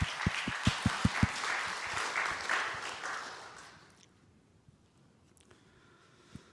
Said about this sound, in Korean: 우리 박수로 한번 장로님 천독을